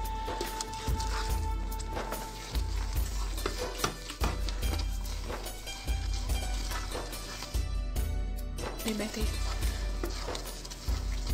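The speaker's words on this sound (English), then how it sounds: "I've added in 250 grams of desiccated coconut." Desiccated coconut, 250 grams, is stirred in a pan over a low flame, with repeated scraping and soft shuffling strokes close by and a voice speaking between them.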